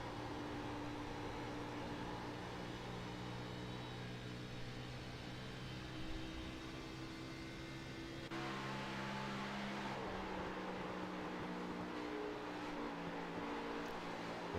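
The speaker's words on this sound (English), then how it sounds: "We can hear the car sliding." Engine drone and tire sliding of a stock car in a sim racing game at the Chicagoland oval, Xfinity Series event, a steady loud continuous roar with a shift in tone midway, no talk.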